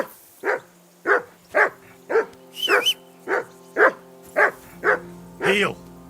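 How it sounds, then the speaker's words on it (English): A dog barks repeatedly in a medieval riverbank camp in a video game, about ten loud, close barks at a steady rhythm, with a low hum beneath. "I assume you can hear that damn dog of yours barking."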